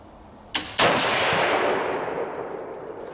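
Two sharp .303 rifle shots from a Lee-Enfield No.1 Mk III SMLE, a lighter crack followed closely by a loud, close report, with a long echoing decay rolling across the outdoor range.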